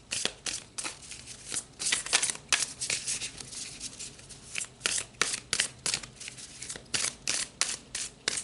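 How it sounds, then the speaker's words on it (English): Tarot cards being shuffled, a run of quick crisp riffling bursts repeating in an irregular rhythm, close and fairly quiet with no talking. "So let's pull some more cards."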